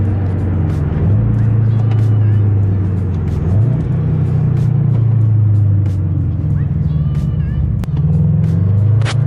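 A Subaru BRZ on new suspension, wheels and tires cruises down the road, a steady interior engine drone and tire hum with small rises and dips in pitch as it shifts and accelerates, no voices.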